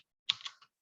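A few quick keystrokes on a computer keyboard as a date is typed, a short soft cluster of clicks close by.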